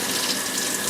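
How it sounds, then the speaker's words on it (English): Water sprays through a K&N air filter from the inside out and splashes into a sink, a loud, steady, close rush with no talking. "If you look down in the sink, you'll see all that dirty water that's coming out."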